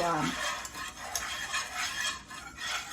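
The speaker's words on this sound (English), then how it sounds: "a little bit of chicken broth and continue to whisk" Chicken broth being whisked in a pan for enchiladas, a continuous brisk scraping and swishing of the whisk with light metallic clinks, close and steady.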